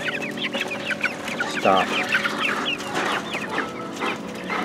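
Brahma, Americana cross and Copper Marans chickens on a homestead cluck in a steady, busy chorus, close by, with a brief spoken word partway through.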